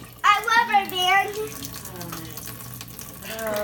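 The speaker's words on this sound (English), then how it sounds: "when the water comes out of this well in here" Well water running from a home tap, a steady splashing flow heard under a child's and an adult's lively voices near the start, then continuing on its own at a moderate level.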